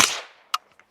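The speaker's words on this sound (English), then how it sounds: "A semi-auto cycles itself every time you shoot it." One sharp, loud report from a suppressed semi-automatic firearm, then quieter metallic clacks as the action cycles itself.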